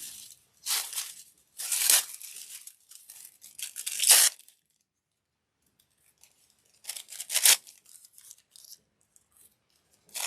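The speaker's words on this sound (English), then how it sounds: "Doesn't matter if it goes over the edges because we can trim those. We've got scissors." Scissors snip and slice through paper in short bursts separated by pauses, close and fairly crisp, during a craft session of colouring and trimming.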